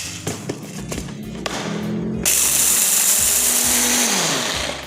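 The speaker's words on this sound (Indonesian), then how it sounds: "Terlebih dahulu beras yang sudah dikeringkan dimasukkan dalam grinder" Electric grinder with dried rice loaded in: a few taps and thuds as grains drop in, then the motor starts up and roars loudly and steadily with bright, gritty grinding, its pitch sliding down near the end.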